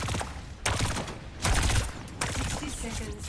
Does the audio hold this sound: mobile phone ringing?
no